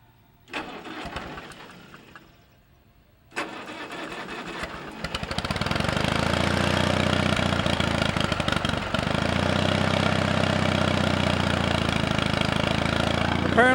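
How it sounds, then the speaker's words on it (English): Two-cylinder gasoline pony motor starting: a brief cranking attempt, a pause, then a second crank that catches and builds into a steady, loud, rapidly pulsing idle that runs on to the end. "we got to get the pony motor started with the 2-cylinder gasoline engine"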